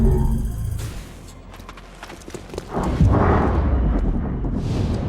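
A rumbling grenade explosion in XCOM: Chimera Squad swells up after a short stretch of game effects, then lingers as a broad, loud roar to the end.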